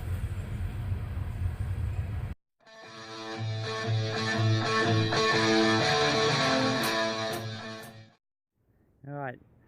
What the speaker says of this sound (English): The first train I've heard.